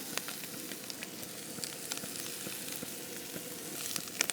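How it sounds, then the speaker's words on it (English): Chorizo, onions and potatoes sizzling in a camping pan outdoors, a steady quiet frying hiss with scattered small crackles and pops throughout. "So I'm now going to add our chorizo and onions back in."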